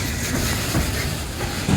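A loaded coal train pulls out of a rail yard, a steady loud rumble with faint clicking wheels and a few brief squeals of metal.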